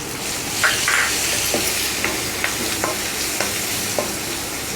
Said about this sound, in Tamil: நல்லா வதக்கிக்கலாம் வெங்காயம் சீக்கிரம் வதங்குறதுக்கு கொஞ்சமாக உப்பு போட்டுக்கலாம்